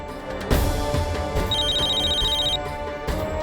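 A telephone rings once in a household scene from a Hindi TV drama, a bright electronic trill lasting about a second over background music and room sound.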